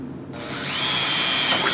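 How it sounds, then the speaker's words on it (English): A power drill with a 1/4 inch bit spins up and bores a hole for a DIY worm tube, its high whine close, steady and alone after a brief quiet start. "This is a 1/4 inch drill bit."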